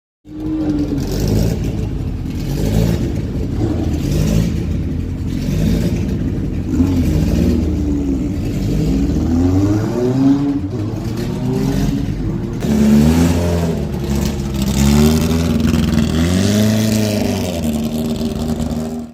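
The Alfa Special, a South African-built Formula 1 race car, revs its engine hard and repeatedly, loud rising and falling blips close by, with sustained throttle bursts throughout.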